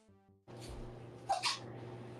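A single short sneeze, close and moderately loud, rising out of a quiet room tone.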